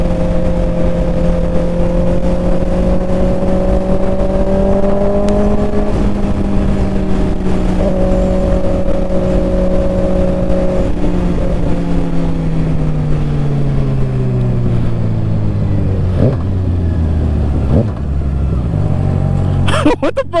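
A 2024 Kawasaki ZX6R 600cc sport bike ridden at night, its engine droning loud and steady with a slow falling pitch as it eases off, ending with a brief rustle.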